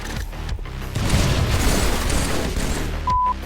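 Frag grenades burst beside Warthogs in Halo 3, a loud broadband explosion rumbling for several seconds with a sharp thump near the end, close and alone without talk.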